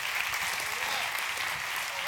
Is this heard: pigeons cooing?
no